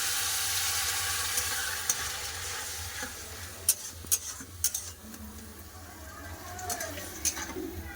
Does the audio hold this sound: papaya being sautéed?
yes